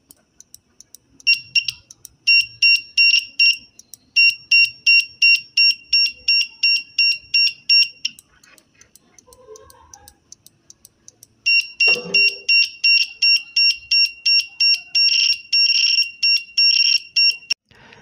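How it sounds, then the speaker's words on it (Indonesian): A universal buzzer alarm switched by a relay module sounds in loud, repeated high-pitched beeping pulses, then goes quiet for a few seconds with faint clicks and handling before the pulsing resumes, with no talk. "Sekarang kita tinggal hubungkan kabel buzzernya."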